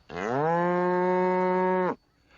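A single cow gives one long, steady moo of about two seconds, clear and close with no other sounds around it.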